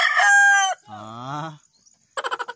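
Fighting roosters kept in a backyard crow loudly up close, one long strained cock-a-doodle-doo followed by another lower crow, then a burst of quick clucks.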